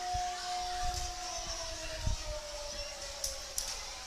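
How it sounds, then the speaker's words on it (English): Sirens sound across a high school football stadium at a night game, a faint steady tone drifting slightly downward in pitch, heard at a distance beneath crowd murmur and scattered voices. "Sirens blaring all over the stadium."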